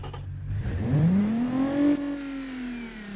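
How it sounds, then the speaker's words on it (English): A V6 car engine in the Automation car-building game revs up in a rising whine, holds near its peak, then eases back, loud and close, with no talking. "Yep, that's a V6, all right."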